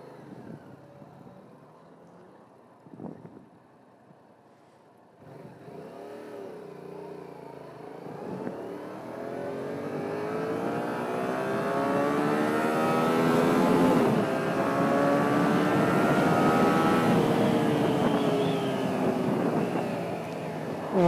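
A Yamaha MT-07 motorcycle pulls away after a quiet start, its engine note rising through the gears and growing steadily louder up close, with no speech.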